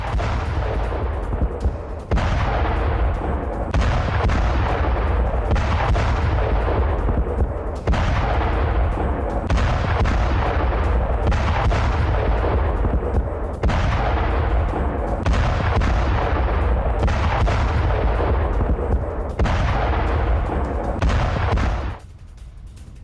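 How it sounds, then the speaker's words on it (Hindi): Heavy blasts from Israeli air strikes in South Lebanon hitting Hezbollah buildings and weapons sites, with a long series of loud, booming detonations about every two seconds, each rumbling on until the next. "विस्फोटक धमाकों में तबाह हिजबुल्लाह की इमारत"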